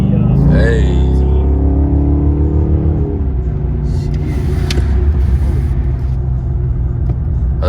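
A Dodge Hellcat's engine gives a deep, steady rumble while driving, loud and close from inside the car, with a brief rise in pitch at the start, and a voice talks over it.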